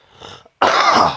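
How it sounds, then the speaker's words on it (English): A single close, loud cough bursts out after a softer throat-clearing rasp and a short pause, with no talk around it. "I'm going to use this transition and segue to cough."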